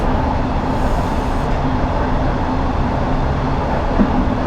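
A London Underground S8 stock train in the video game Train Simulator 2019 rumbles along steadily, a dense, loud and continuous rolling roar with a faint electric whine and no talking.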